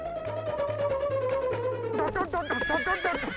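A horse neighs in a long, loud whinny that falls in pitch, followed by shorter snorting calls, with a rhythmic low thumping underneath.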